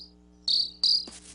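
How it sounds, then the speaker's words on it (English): Two sharp, high cricket chirps ring out close and clear in a quiet setting, followed by a brief softer sound. "she'll be listening for my cricket sound"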